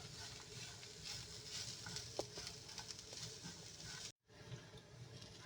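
Shredded cabbage stir-fried over a high flame, a steady dense sizzle with faint scraping as it is tossed, continuous and fairly quiet with one brief dropout.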